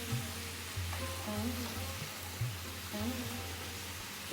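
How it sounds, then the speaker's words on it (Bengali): Snake gourd and potatoes are stirred together in a pan over a constant soft sizzle, with a few faint scraping strokes of the spoon close by and a quiet hum in the background. "জাস্ট অল্প ভালো করে চিচিঙ্গে আর আলুকে একসাথে মিশিয়ে নিচ্ছি আমি।"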